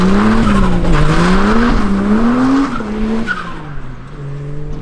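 Tyres squeal and break loose on a 2JZ-swapped Ford Escort Estate in a large car park, a loud, continuous wavering screech riding over the engine's roar for several seconds before easing slightly.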